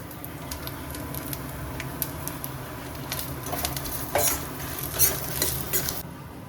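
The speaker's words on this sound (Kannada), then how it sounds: "ಒಣಮೆಣಸಿನ್ಕಾಯಿ ಹಾಕ್ಕೊಳ್ಳೋಣ." About a dozen dried red chillies and a few curry leaves crackle in hot oil for a home-cooked sambar. A spoon rhythmically scrapes and stirs over a low, steady sizzle, with sharper pops and clatters toward the end and no voices.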